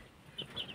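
Young turkey chicks giving a few thin, high peeps near the middle and end, quiet and close, over faint farmyard clucking with no speech.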